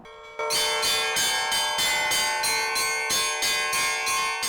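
Church bells in Lviv region, Ukraine, peal loudly and continuously, several bells striking in a steady repeating rhythm with a rich, ringing overtone wash.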